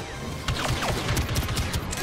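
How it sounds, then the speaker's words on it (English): Star Wars Battlefront II gunfire, a dense rattle of rapid shots layered over one another against a noisy game background, steady and fairly loud throughout. "Who's shooting at me?"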